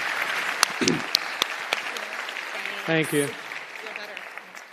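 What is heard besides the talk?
applause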